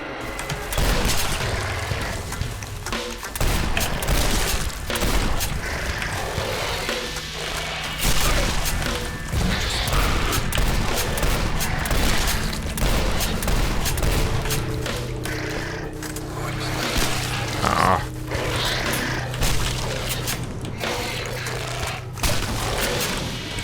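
Dense, continuous video game battle sound with rapid gunfire, crashes and booms layered over each other at steady high loudness for the whole stretch, with no talk over it.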